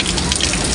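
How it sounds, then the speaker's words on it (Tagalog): Rain pours down steadily during an airgun fishing outing, a dense, even hiss of drops close by with no pauses. "Nabutan kami ng ulan mga kapulso."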